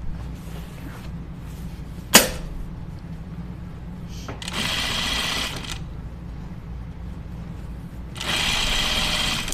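A sewing machine stitching Free Range slacks runs in two short bursts of rapid mechanical whirring, each lasting a few seconds, with a sharp click before the first and quiet pauses between.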